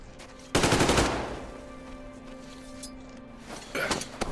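Automatic gunfire in Metro Exodus: a loud, close burst of rapid shots lasting under a second, then a quieter stretch before another shorter volley near the end.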